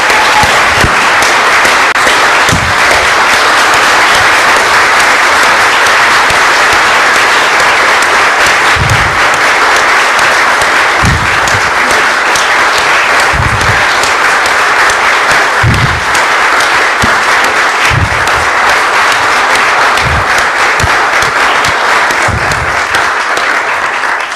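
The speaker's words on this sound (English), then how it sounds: "If we can give them a round of applause." An audience at a city council meeting breaks into sustained, loud applause honoring the fire department, with steady dense clapping throughout and a few louder individual claps standing out.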